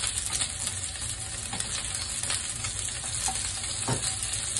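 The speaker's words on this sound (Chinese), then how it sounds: "咁煎到过另外一面咧，都已经系" Fish cakes sizzle steadily in a hot pan after being flipped to the golden second side, a dense continuous frying hiss with a few faint scrapes of stirring, close and alone without talk.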